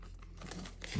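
Plastic wrap being peeled off a space gray MacBook Pro 13-inch, a brief close crinkling rustle that builds slightly toward the end, with no talking.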